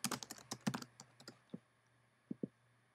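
A computer keyboard clicks close by as a Yahoo password is typed: a quick run of keystrokes, then a pause and two last separate taps.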